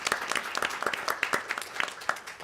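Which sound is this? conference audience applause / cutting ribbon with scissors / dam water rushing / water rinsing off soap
conference audience applause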